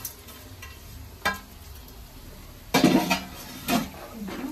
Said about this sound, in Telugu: ఇప్పుడు మనకి ఈ ఆయిల్లో ఆ చికెన్ ముక్కలు అల్లం వెల్లుల్లి పేస్ట్కి బాగా పడతాయి అన్నమాట